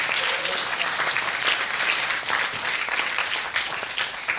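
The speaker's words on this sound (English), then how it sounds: "Give them another round of applause." A science-communication competition audience gives contestants another round of applause, a loud, close, continuous clatter of many hands with a few louder individual claps standing out.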